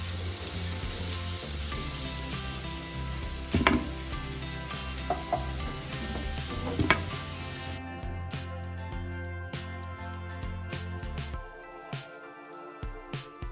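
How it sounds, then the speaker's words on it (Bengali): Potatoes frying red in hot oil with salt and turmeric, a loud close sizzle with a few sharp utensil knocks, thinning abruptly to quieter crackling partway through. "এবার আমি আলুটাকে লাল লাল করে ভেজে তুলব"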